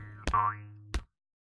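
A short, springy cartoon boing rings out between two quick thumps, then silence.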